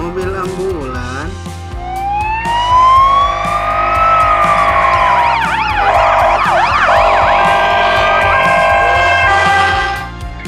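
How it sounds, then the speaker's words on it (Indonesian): A toy ambulance siren wails loudly and close, its tone sweeping up and then warbling rapidly back and forth for several seconds before cutting off, with a child-oriented narrator's voice heard briefly at the start. "Mobil ambulan."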